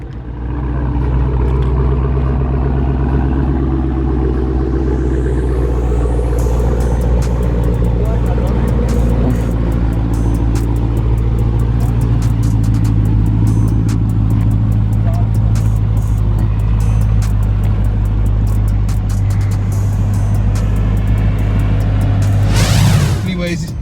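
A Dodge Hellcat idles after being fired up, a deep steady loud rumble with strong low drone throughout, a brief rev near the end, and people talking over it.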